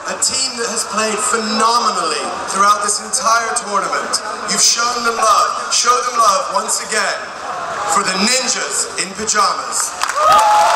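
Crowd in an arena at a Counter-Strike: Global Offensive final in Katowice's Spodek applauds and cheers the Swedish team NiP, sustained loud clapping and whoops under continuous talking.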